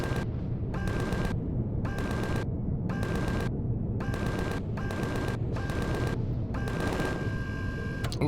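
A ball turret fires in the Empyrion video game in a steady series of about eight evenly spaced bursts over a constant rumbling background. The shots are loud and repeat like a rhythmic pulse.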